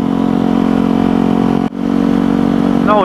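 A motorcycle engine running steadily in fourth gear on the road, a loud, close, even hum that dips briefly mid-way and then resumes, with faint chirps near the end.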